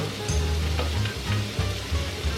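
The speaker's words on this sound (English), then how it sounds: "I'm gonna go in with the onions first. Get these nice and sauteed." Onions sauté in oil in a pan for rajas con queso, a crackling sizzle with soft stirring scrapes, close and steady with no talking.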